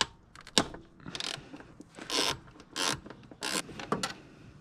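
A ratchet wrench with a 10 mm socket loosens the throttle body bolts on a BMW E36, giving several short, close bursts of clicking and rubbing metal with brief pauses between strokes.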